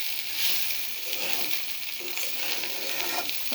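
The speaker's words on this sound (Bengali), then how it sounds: "কষায় ভালোভাবে ভেজে নেব চালটা" Rice sizzles and fries steadily in a pan with garlic paste and garam masala, a dense continuous crackle with occasional stirring scrapes, close and fairly loud with no talking.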